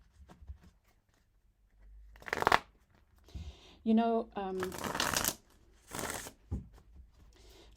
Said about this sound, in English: because we're now shuffling